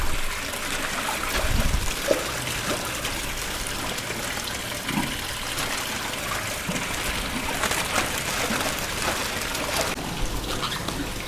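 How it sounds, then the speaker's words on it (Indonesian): Water being poured out of a koi fish tank, a steady close trickle and splash running throughout with faint gurgling, no talk. "Terus kita buang sedikit airnya."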